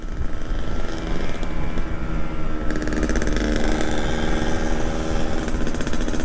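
A motorcycle ridden at night on the way home, with a loud, steady engine drone and road rumble close by and no talking for the whole stretch.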